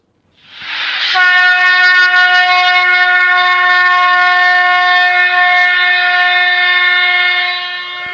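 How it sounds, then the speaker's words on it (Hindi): A single long, steady horn-like blast from a talking Bhagavad Gita book's battle sound effect, loud and sustained for several seconds before tapering off, with no voices. "युद्ध की आवाज़ निकालना प्रारंभ कर दिया है"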